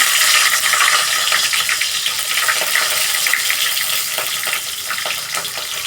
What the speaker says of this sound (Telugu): నూనె అయితే వేడెక్కింది సో మనము ఫస్ట్ పచ్చిమిర్చి